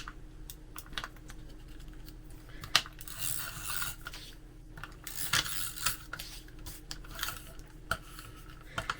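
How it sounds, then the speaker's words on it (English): A roller tape adhesive dispenser running across junk journal and planner pages makes close, rapid clicking and scratchy rolling bursts that come and go over a faint steady background hum. "I'm going to use the roller tape if I can."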